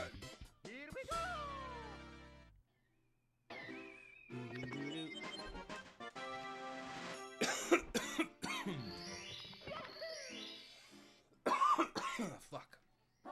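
A man coughs several times in rough bursts while playing Super Mario 64, mixed with game music, sound effects and his own talking.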